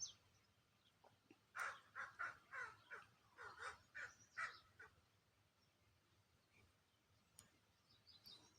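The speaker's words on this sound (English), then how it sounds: "the crows are talking." Several crows cawing outdoors by a garden, a run of about eight harsh rhythmic caws in quick succession at moderate distance, then quiet background with a faint distant call.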